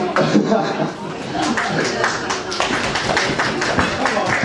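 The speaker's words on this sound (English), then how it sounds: "That was the applause that you received for that effort, Rich" Applause and clapping from a small audience for Rich's effort, a dense steady patter of hand claps filling the whole stretch with some chuckling mixed in.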